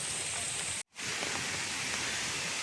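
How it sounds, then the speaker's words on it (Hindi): Steady broadband rushing water from a waterfall in dense humid forest on a trek near Thane, Maharashtra, with rain falling upstream; continuous and fairly loud, with one brief cut near the start. "एक झरने की आवाज़ आ रही है इधर से"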